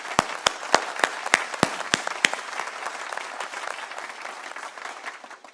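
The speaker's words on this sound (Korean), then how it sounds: "우리 예배를 기뻐 받으신 하나님께 박수로 영광 돌리도록 하겠습니다." A church congregation claps together at the close of a worship service: a burst of sharp, distinct claps that thins and fades into a softer, scattered patter.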